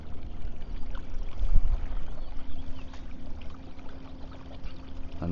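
A NuCanoe Unlimited kayak runs across the water under a Newport NK300HD electric motor, giving a steady low hum with water rushing and splashing along the hull, continuous and close, without talk.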